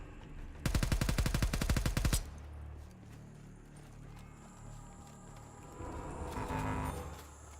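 A rapid burst of fully automatic AK rifle fire in a video game, about twenty close, sharp shots in a fast, even rhythm lasting about a second and a half, followed by quieter game sounds.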